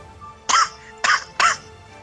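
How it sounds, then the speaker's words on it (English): Three short, harsh coughs come close together, near and moderately loud, from a person with a lingering cough. "this cough didn't really go away yet"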